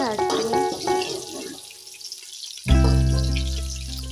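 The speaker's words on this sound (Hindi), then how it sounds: "यहाँ पे हमारी अनियन फ्राई हो रही है।" Onions deep-frying in about two large spoonfuls of oil for pasta, a steady sizzling hiss that swells suddenly into a louder, fuller sizzle near the end.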